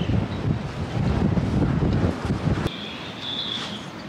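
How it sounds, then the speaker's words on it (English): Gusty wind roars and buffets the microphone, then eases into a thin, high whistling as it blows through a boat's taut rigging. "Hear the wind whipping through the rigging."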